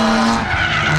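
A car drifting at a drift track during a spring break event, tires skidding and squealing loudly alongside a roaring engine in one close, continuous burst.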